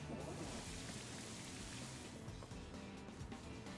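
Steady rain from a weather effect in the Pokemon Scarlet & Violet video game, a dense, continuous hiss of falling drops heard faintly throughout, layered with soft game music.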